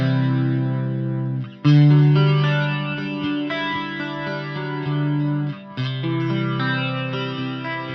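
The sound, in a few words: electric guitar through Line 6 Helix chorus effect, slow speed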